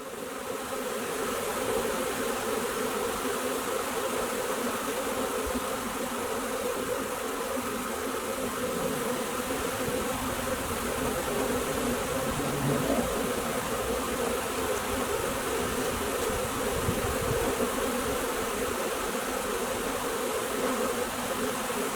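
A swarm of honeybees swirling into the entrance of a swarm trap, a steady, dense, close buzzing hum that holds without a break throughout, with no voices.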